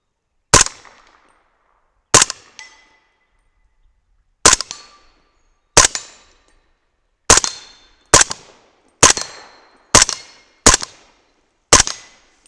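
A 300 Blackout rifle fires powder-coated bullets loaded with Reloder 7, mostly subsonic rounds, at an outdoor range: ten loud, sharp shots with short echoing tails at irregular intervals of one to two seconds, with no talking.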